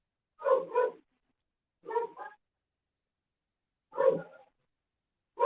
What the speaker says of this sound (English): Sorry, my dog's been barking